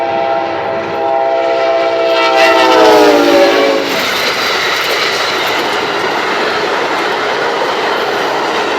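A Norfolk Southern freight train passes close by, its loud multi-tone horn sounding for a few seconds before fading into a steady heavy rumble and rattle of rolling wagons.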